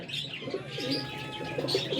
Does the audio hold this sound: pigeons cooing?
yes